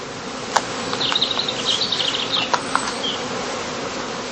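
Cast honey bees from a swarm with several virgin queens buzz inside heather skeps at a heathland apiary: a dense, steady drone with a few sharp ticks and bumps close by, no voices.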